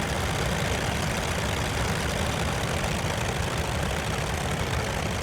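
A Ryan propeller aircraft engine in Microsoft Flight Simulator 2020 drones loud and steady, a dense, even rumble with no breaks and no voices over it.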